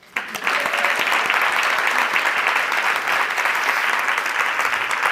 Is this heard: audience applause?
yes